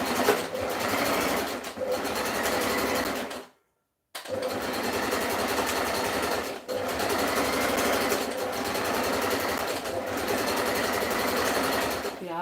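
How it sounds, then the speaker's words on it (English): A sewing machine runs a zigzag stitch along a dress seam, a steady mechanical whirr in long bursts with one brief stop partway through, close and fairly loud. "This part here, I'll have to zigzag that to keep it neat."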